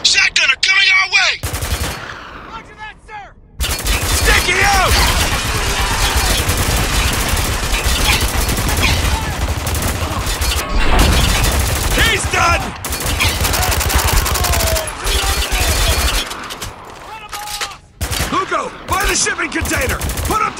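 Sustained heavy gunfire from an ambush in the Spec Ops: The Line video game, with rapid automatic bursts and loud blasts filling most of the stretch, broken by brief lulls, while voices shout faintly underneath.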